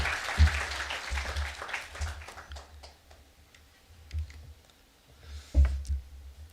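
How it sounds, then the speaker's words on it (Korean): Scattered clapping from a church congregation at a Sunday worship service, welcoming a missionary to the pulpit; the claps come in uneven bursts, fading down and then rising briefly again near the end. "우리 선교사님 나오실 때 우리 박수로 환영하도록 하겠습니다"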